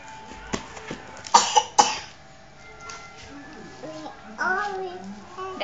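A child coughs a few times in quick, sharp bursts, with small voices and chatter around before and after.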